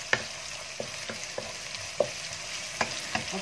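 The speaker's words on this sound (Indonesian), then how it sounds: "Mula-mula sekali kita masukkan bawang putih dan juga bawang merah. Kita tumis sehingga bawang-bawang ni layu." Garlic and shallots sautéing in a pan, a steady close sizzle broken by a series of sharp scraping stirs and clinks at irregular intervals, with no voices.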